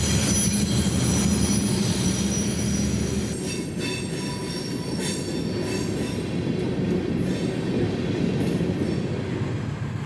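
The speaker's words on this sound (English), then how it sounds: "Southbound MGA 2302 makes an appearance at Matt." A Monongahela Railway train, MGA 2302, rolls southbound past the old station at Mather, a steady loud rumble of railcars with wheel squeal and clatter continuing without break.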